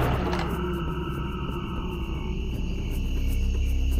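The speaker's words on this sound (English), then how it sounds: "that was the sound of the lava golem" A deep, rumbling lava golem growl from Serious Sam: The First Encounter swells over a dense, steady game soundscape, heavy and close throughout.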